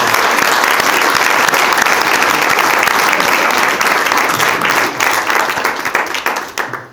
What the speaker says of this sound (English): I think she should have a round of applause